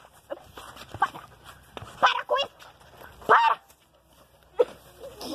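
An aggressive dog gives several sharp barks and whimpers in irregular bursts, close and loud, separated by short quiet gaps.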